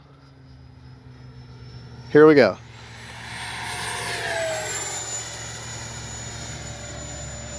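An FMS 80mm Futura V3 RC jet makes a runway pass. A rising whooshing howl builds and holds at a steady, fairly loud level. A short spoken phrase comes just before the howl.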